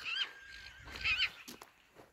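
A Kyrgyz horse neighs twice, two distinct whinnies close to the microphone with a short gap between them, followed by faint shuffling and no talk.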